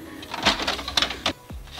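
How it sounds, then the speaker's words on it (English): A home printer feeds and prints a business card, giving quick mechanical whirs and clicks in short irregular bursts, close by and moderately loud. "So my printer goes like that."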